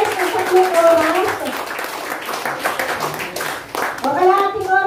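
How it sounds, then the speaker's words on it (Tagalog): Congregation clapping hands during a church sermon, a brief patter of claps blended with a preacher's amplified voice speaking over it. "Pumalakpak po ang mga gising."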